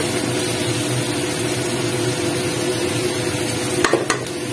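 Rice, lentils, vegetables and spices being stirred together in a pot for khichuri, a steady low sizzle and rustle throughout, ending in a few sharp utensil clinks against the pot.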